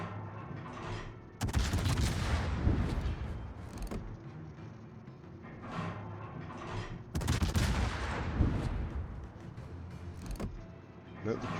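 Heavy naval gunfire from a Tier X Des Moines heavy cruiser in World of Warships, with two loud booming broadside salvos followed by rumbling, crackling shell and battle noise in a continuous dense mix.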